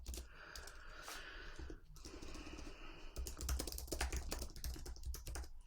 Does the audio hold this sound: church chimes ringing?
no